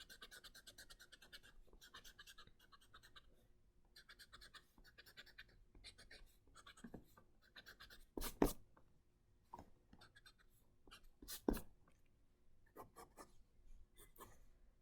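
A pencil shading a rough sketch of a face makes soft, steady scratching strokes in short bursts, close and quiet, broken by a couple of sharper taps or knocks.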